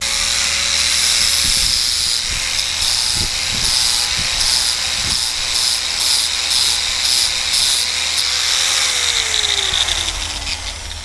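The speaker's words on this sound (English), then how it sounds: "we're going to grind it all out, and then soon we will start the repair" Grinding bottom paint and old filler off a boat hull, a continuous loud, close, hissing abrasive whine that holds steady for the whole stretch, with slight shifts in pitch as the tool works the surface.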